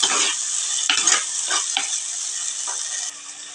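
Tomatoes with rock salt sizzle loudly in a hot pan for fish curry, a steady close frying hiss broken by several scraping stirs of a spoon against the pan.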